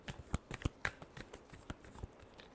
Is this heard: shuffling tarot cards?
yes